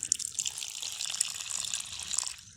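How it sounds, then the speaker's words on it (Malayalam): Water is poured onto a potted Kalanchoe (mother of thousands) plant set in a sand and garden soil mix, giving a close, steady trickle and splash that lasts a few seconds without talk. "ഈ ഒരു ചെടിക്ക് നമുക്ക് കുറച്ച് വെള്ളമോടെ ഒഴിച്ചു കൊടുക്കാം"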